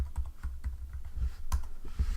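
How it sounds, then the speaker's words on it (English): A password is typed on a computer keyboard during a login, giving a quick, steady run of close, crisp keystroke clicks with no talk. "Then type in my password."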